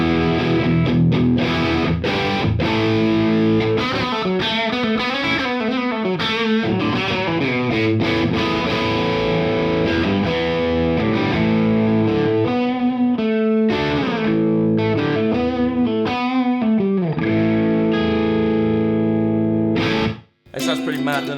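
Electric guitar through a Friedman Buxom Boost pedal on a supposedly clean setting that is heavily driven, with sustained distorted chords and riffs played loud and continuously before cutting off abruptly near the end.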